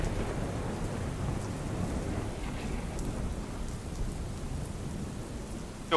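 Steady heavy monsoon rain pours down continuously in Surat, a dense broadband hiss with occasional louder drops, no voices present.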